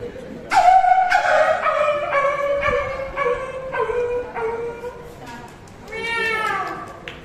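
A performer's voice imitates a dog yelping after being hit by a stone, on stage at a college annual cultural programme: a string of about eight sharp, whining yelps, then a final drawn-out cry.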